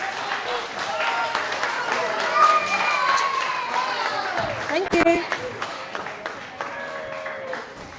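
Audience clapping at a school award presentation in 2020, a steady patter of applause from a room of children and adults that swells and fades over several seconds, with some voices and a chirpy shout in the mix.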